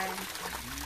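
A Peking duck fountain at a resort and ecology park in Batangas City sprays water in a steady, broad splashing rush, with people talking over it.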